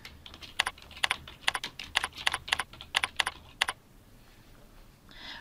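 Task name being typed on a computer keyboard, about a dozen crisp, close key clicks in quick uneven succession, then a pause with faint noise.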